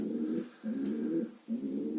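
Racing pigeons coo in three low, throaty phrases, close and clear with short pauses between, and no voices nearby.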